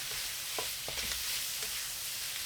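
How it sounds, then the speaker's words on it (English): Squid and basil stir-fry in a hot pan, a loud, steady sizzle with a few soft scrapes and knocks of the spatula stirring, close up and without talk. "Next, add the basil and stir again for 20 seconds"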